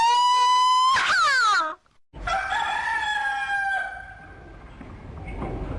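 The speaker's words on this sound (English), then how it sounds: "That old rooster hasn't crowed in 10 years" A loud, close rooster crow rises and breaks, then after a short pause a second long, drawn-out crow trails off into background noise.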